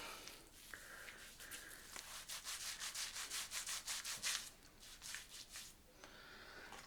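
Close, soft friction of palms rubbing pre-shave over a dry scalp, building into a quick regular back-and-forth swish before easing off; no voices.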